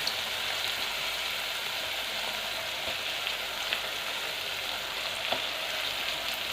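Turkey berries and chopped tomatoes fry in a pan with a steady, moderately quiet sizzle and occasional small pops, with no talking over it.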